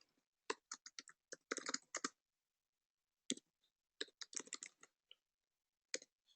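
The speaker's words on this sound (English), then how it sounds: "So I'm typing quickly." Fast typing on a computer keyboard, close-up bursts of crisp clicking keystrokes in quick clusters separated by short pauses, with no other sounds around them.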